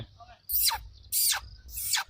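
A human voice mimics a treeshrew's call with three sharp, high squeaky chirps in even succession, close and fairly loud.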